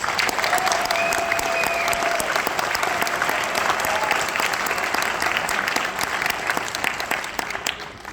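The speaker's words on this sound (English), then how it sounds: "one more round of applause for our seniors, please" An audience at a school winter band concert gives sustained applause for graduating seniors. It is a broad, even wash of clapping that tapers slightly at the end.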